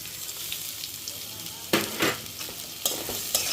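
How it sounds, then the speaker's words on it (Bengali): Finely chopped onion, a little chopped garlic and green chili fry in a pan while being stirred, a steady sizzle with bursts of louder scraping and stirring strokes, no voices. "একটু ভালো করে ভেজে নিচ্ছি।"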